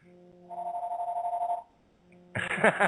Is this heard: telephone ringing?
yes